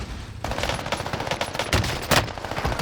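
Gunfire in the Warzone Pacific video game, rapid automatic bursts and sharp shots crackling in quick succession at close range.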